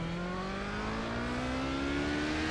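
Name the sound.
race car engine in iRacing video game at Le Mans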